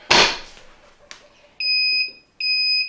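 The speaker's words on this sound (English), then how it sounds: "It's gonna continue to beep until I come in here and lift that handle." A Trans Pro Plus semi-automatic heat press, a sharp mechanical clunk from the platen followed by two loud, sustained electronic beeps in a repeating alarm pattern, with no talking.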